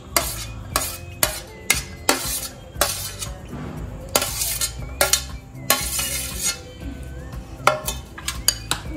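Fruit salad of banana, apple, mango and pomegranate being stirred in a bowl: a steady run of sharp clinks and scrapes from a utensil against the dish, with wet shuffling of fruit pieces between the strikes, heard up close with no speech.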